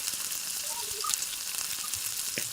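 Curry leaves hit sautéed onions in a hot pan, giving a steady, close sizzling hiss that holds evenly throughout with a few faint crackles on top.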